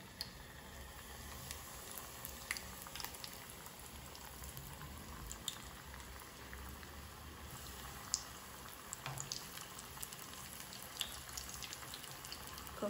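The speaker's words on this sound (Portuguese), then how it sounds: "Agora a gente vai fritar aqui." Coxinhas made with potato dough frying in hot oil, a steady soft bubbling sizzle with scattered faint pops and crackles, close and quiet with no talking.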